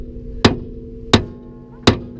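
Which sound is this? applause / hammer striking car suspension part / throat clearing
hammer striking car suspension part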